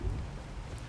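Rain and thunder in the ARK: Survival Evolved game on The Center map, with a steady wash of rainfall and a low rolling rumble of thunder that is strongest at the start, fairly loud and continuous.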